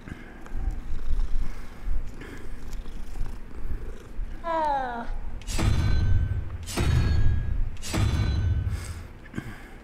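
A cat in the video game Hogwarts Legacy purrs softly while being petted, followed by a rising chirp and several heavy thumping impacts, with faint talk in the background.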